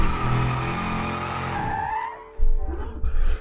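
Tires skid and squeal as a car slides through a handbrake drift in the BeamNG.drive driving game, a loud sustained screech over engine noise that cuts off, followed by rougher bumping road noise.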